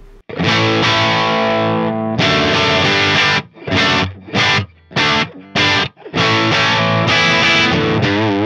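A Les Paul electric guitar played through a Vox AC30 amp with Vintage 30 speakers: loud, crunchy distorted chords, some sustained and some in short rhythmic stabs separated by brief gaps, with no speech.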